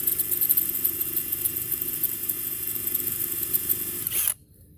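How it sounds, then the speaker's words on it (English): A steady high-pitched power drill whine drilling out a soft brass pool cover anchor runs continuously, then cuts off abruptly, leaving near silence. "This isn't the best drill that I have here"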